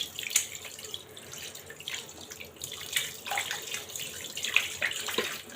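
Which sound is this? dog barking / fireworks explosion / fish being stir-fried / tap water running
tap water running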